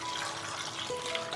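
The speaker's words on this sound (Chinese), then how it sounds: "加入适量清水" Water poured steadily into a pressure cooker holding stuffed bitter melon, soybeans and mushrooms, a soft continuous trickling splash that stays faint and even for a moment.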